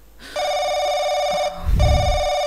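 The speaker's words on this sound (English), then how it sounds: "The phone the phone. Who is it at this hour?" A telephone rings in the horror RPG game Paranoiac, a sustained electronic bell tone for about a second, then a low thud follows; no talk is heard.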